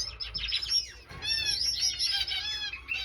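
Pet finches chirp in quick overlapping bursts of high, bright calls, close by and fairly quiet, with a short pause before the chatter resumes.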